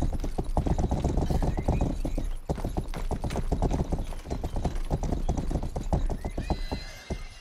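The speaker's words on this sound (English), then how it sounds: "a rather nice looking horse named Horse Speed. And he's quite quick." Hooves of a quick horse clip-clop steadily and loudly in the Western video game Rustler, with an occasional neigh, as a rapid, continuous rhythm that runs almost the whole time without talk.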